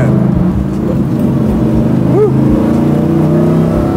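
A 1969 Camaro with an 800 hp LT5 engine revs while driving, a loud, close, sustained drone that briefly climbs in pitch partway through. A voice lets out a short whoop.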